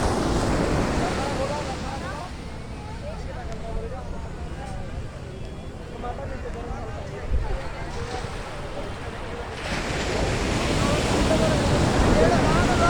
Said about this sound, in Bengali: আসুন দেখি সমুদ্রের ঢেউ দেখি